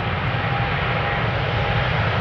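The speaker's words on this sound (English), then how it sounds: "KLM Flight 757 is also spooling up 787-10 to Panama City" Continuous jet engine drone from a KLM Boeing 787-10 spooling up at Amsterdam Schiphol, a steady low rumble with a faint whine, unbroken and without talk.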